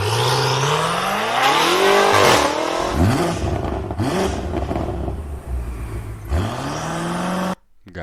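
A black 2023 BMW M8 engine revs hard and loud, with repeated rising and falling surges and strong throttle blips, running continuously before cutting off abruptly near the end.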